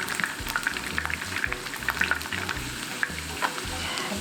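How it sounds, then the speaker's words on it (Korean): Garlic fries in hot cooking oil in a pan, a steady close sizzle with bubbling and light popping crackles throughout, with no talk. "이렇게 이어서 마늘부터 먼저 구우면 마늘 향이 올라와서 식용유가 더 맛있어요."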